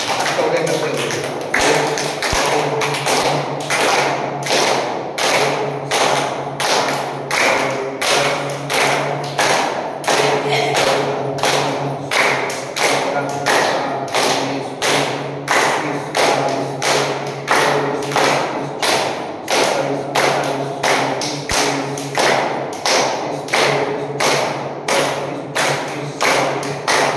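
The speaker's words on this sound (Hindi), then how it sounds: "चलो तालियां बजाएंगे।" A group at a yoga exercise session claps hands in a steady, even rhythm, one clap roughly every half second, sustained for nearly half a minute with an instructor talking over it.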